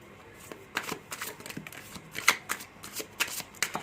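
A deck of cards shuffled for a reading: quick riffling bursts and soft flicks repeat in an irregular rhythm, close and fairly quiet.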